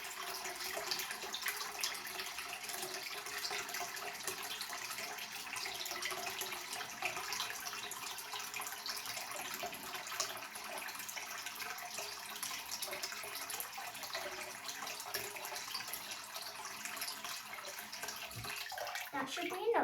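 Water pours into a tub or basin to float a toy police warship model, a continuous soft splashing stream that stays low and even, then ends with a faint bump.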